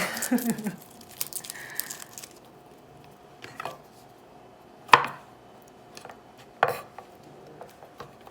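A knife chops garlic cloves on a cutting board in a quiet kitchen, making a few sparse, distinct taps and one louder thunk, with soft handling noises between them.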